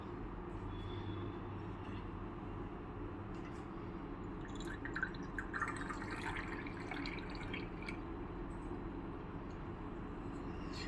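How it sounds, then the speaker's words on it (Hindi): Water is poured into a clay kalash with a steady trickling and splashing that builds partway through over a low constant background hum, with no talking. "अब इसके अंदर भरेंगे पानी।"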